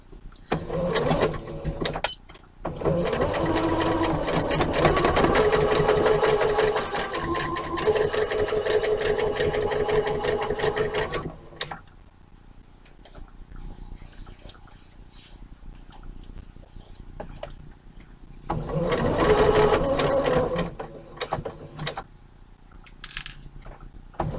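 A home sewing machine runs a straight seam through denim from a pair of jeans, whirring in long steady bursts with short pauses and quieter handling noise in between.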